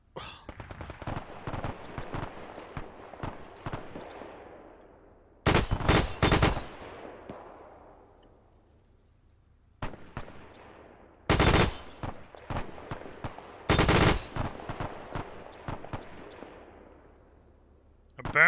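In the Arma 3 World War II campaign set in Italy in 1943, an MG42 machine gun fires several short, loud, rapid bursts, each trailing off into a long echoing decay, with quieter distant shots in between.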